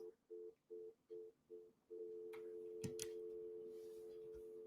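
Telephone call to Dish satellite TV customer service: five short repeated beeps followed by a steady continuous tone, like a phone line dialing and connecting, with a couple of sharp clicks partway through; faint and alone without talk.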